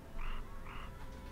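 Toads croak in a swamp in the game Empyrion Galactic Survival, two short rasping calls in a row over a dense, steady wash of ambient background noise.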